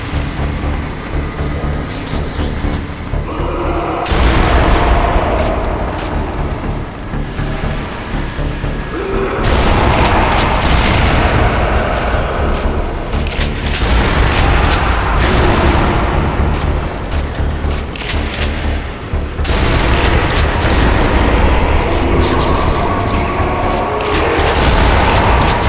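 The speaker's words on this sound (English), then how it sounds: "using these shotgun shells up" Repeated heavy shotgun blasts in Nazi Zombie Army, loud close booms spaced several seconds apart, each followed by crashing impacts and clatter amid a dense, noisy game soundscape.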